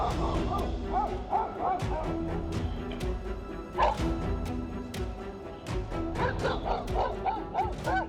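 A house dog barks aggressively at a bear in a rapid, continuous string of loud barks and yips, close and busy, with a few harder crashing hits mixed in.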